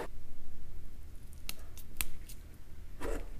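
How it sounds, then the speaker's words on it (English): Scissors snip through monofilament fishing line at a table, giving a few sharp, close clicks spaced apart over a low background hum, with no talking. "Let's go ahead and cut our other two of the mono just so we have them."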